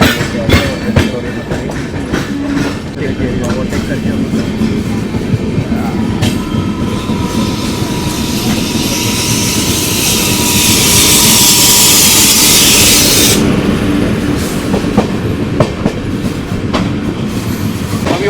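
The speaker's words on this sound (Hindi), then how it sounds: "ये आ रही है अपनी अमृतसर नई दिल्ली इंटरसिटी" The Amritsar–New Delhi Intercity train pulls into Ghaziabad station, a loud continuous rumble of passing rail cars with rhythmic wheel clatter, squealing wheels and a rising hiss partway through.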